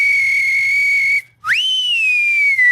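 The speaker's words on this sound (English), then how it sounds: "Give him a little whistle to say goodbye." A loud, sustained human whistle given as a goodbye, holding one steady tone, then breaking off briefly and swooping back up into a second long, slowly falling note. No voices.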